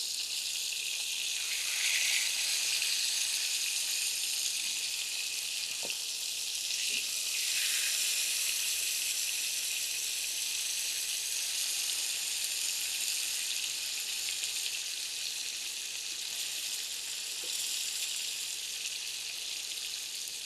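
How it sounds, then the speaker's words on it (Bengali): Fish frying slowly over low heat in a pan, a steady soft sizzle running through the whole stretch with occasional faint clicks and no talking. "আস্তে আস্তে আঁচে ভাজতে হবে।"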